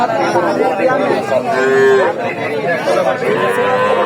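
A young heifer at a rural cattle market lows loudly and close by, a drawn-out moo rising over the murmur of people chatting around it.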